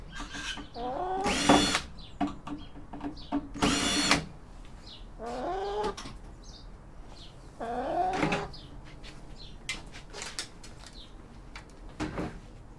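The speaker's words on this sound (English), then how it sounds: "We're going to open this up. Couple of screws at the back." A cordless power drill unscrews the back panel of an old CRT television, giving two loud whirring bursts and two shorter ones across the clip, with clicks and handling noise between them and nobody talking.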